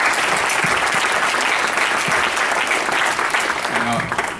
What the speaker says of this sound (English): So I just want to give a round of applause first of all.